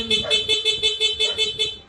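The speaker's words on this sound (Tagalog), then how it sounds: "ang kinabit natin PAA auto style horn, dual horn setup with rapid horn and combo lights" A PAA auto style dual horn fitted to a Yamaha Aerox V2.2 scooter blares in rapid pulsing mode, about eight quick loud bursts in a steady rhythm, close and alone.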